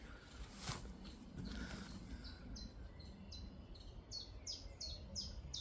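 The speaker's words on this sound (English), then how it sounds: "there's a chiff-chaff now to my right hand side" A chiffchaff sings outdoors in woodland, its repeated two-note chiff-chaff phrases coming in a steady, evenly spaced series from mid-distance over a constant background hiss, with no talking.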